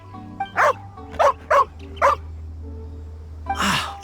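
Dog barking in the video game Genshin Impact: a handful of sharp barks spaced about half a second apart, then a louder, longer bark after a pause, over a steady low game hum.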